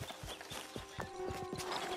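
Horse hooves clip-clop in a steady, repeated rhythm across the ground in Red Dead Redemption 2, with a low rumble and faint ambient tones behind them.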